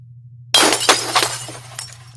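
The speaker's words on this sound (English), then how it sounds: "Smashing or breaking glass?" Glass smashes suddenly and loudly, a burst of crashing shatter followed by scattered tinkling fragments over a steady low hum.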